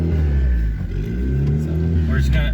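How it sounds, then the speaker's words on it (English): A turbocharged stock F22 Honda Accord pulls away on a test drive. Its loud, steady engine drone fills the whole stretch, and a voice is also present. "so we're taking it for a little test drive."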